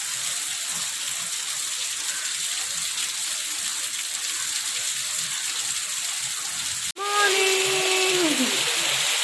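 Heavy rain falling in Goa, a steady broad hiss of downpour continuing throughout, briefly cut near the end before resuming with a voice speaking over it.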